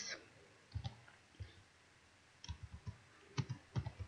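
Keys clicking on a computer keyboard as Prolog code is typed, arriving in short irregular bursts of close, crisp taps separated by pauses.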